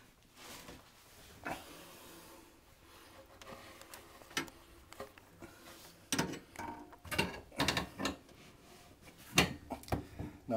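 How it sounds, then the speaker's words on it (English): Metal clinks, ratcheting clicks and scraping of an open-end wrench working loose the nuts beneath an undermount sink, scattered irregular knocks growing busier and louder toward the end, close by with no talk. "I'm going to use a standard open-end wrench under there rather than a vice grip or channel lock"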